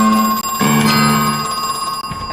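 A phone rings in the horror video game Crow Country, a bright trilling bell that repeats loudly and insistently over a faint music bed.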